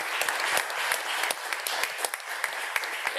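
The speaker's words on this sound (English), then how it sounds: "a big round of applause to all the panelists" Conference audience applauding a panel at a EuroGEO 2023 session, dense clapping with distinct individual claps popping out, steady and fairly close, with no talk over it.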